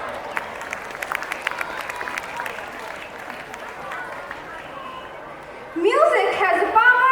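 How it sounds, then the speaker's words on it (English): A crowd at a Republic Day school celebration keeps up scattered, sparse clapping and chatter, then breaks into a louder burst of cheering and applause near the end, with children's voices rising over it. "Let's honor their efforts with a gracious round of cheers and applause."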